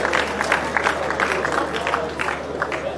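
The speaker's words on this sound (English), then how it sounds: "Give him another round of applause" Audience at an engineering society graduate induction ceremony in Nigeria giving another round of applause, a full, continuous roar of many clapping hands with crowd noise underneath, held steady throughout.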